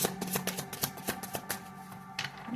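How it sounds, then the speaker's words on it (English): A deck of playing cards being shuffled close by, with a quick series of crisp riffling bursts and flicks repeating for a few seconds without any talk. "I already shuffled the cards, but I'm going to shuffle the cards more"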